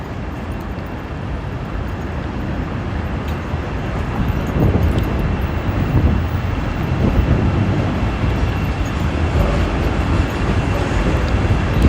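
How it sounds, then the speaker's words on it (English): A Chicago elevated L train passes on overhead tracks, a steady rumbling roar that swells toward the middle and stays loud to the end, heard alone. "Oh, there goes the L. So that's the subway."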